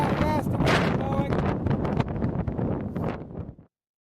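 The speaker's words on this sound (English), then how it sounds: "I'm curious to know how fast the wind's blowing." Strong outdoor wind buffeting the microphone near Baker Lake in Wyoming's Wind River Range, a loud rough roar with gusting swells that cuts off abruptly near the end.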